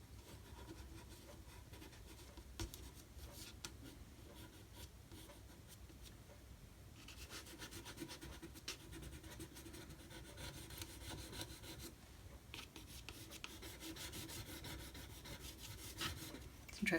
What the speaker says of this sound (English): I've got a very soft drawing pencil here.